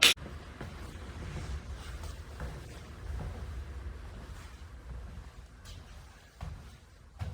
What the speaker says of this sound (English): That sound is the wind